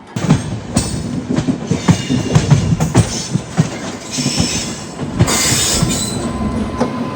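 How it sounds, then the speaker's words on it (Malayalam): An express train running from Puri to Rishikesh passes on a parallel track, loud and close, with a rushing roar, rhythmic clickety-clack of wheels over rail joints and bursts of wheel squeal throughout. "ഒഡീഷയിലെ പുരിയിൽ നിന്നും യോഗനഗരി ഋഷികേശ് വരെ പോകുന്ന ഒരു എക്സ്പ്രസ് ആണ് പോകുന്നത്"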